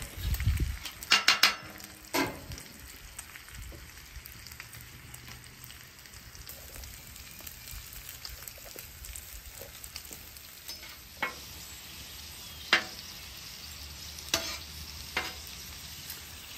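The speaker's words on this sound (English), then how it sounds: "As that grease renders out, we're just gonna keep it just like that" Bacon sizzling and rendering grease on a griddle alongside potato wedges, a quiet continuous crackle with scattered sharper pops and a few clatters of a utensil.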